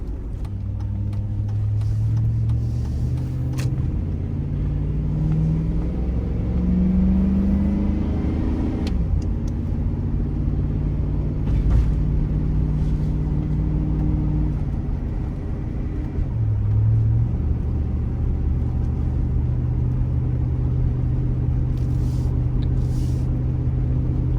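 A 220,000-mile Chevrolet Tahoe towing a car uphill in first gear, its engine rumbling low and loud with rising and falling revs and a shift partway through, steady throughout.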